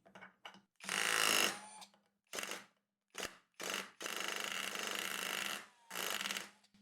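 A Skil Autohammer PwrCore 12v cordless tool drives a cut masonry nail into a 2x4. It fires in loud, rapid hammering bursts, one long burst and several short ones, with brief quiet gaps between them.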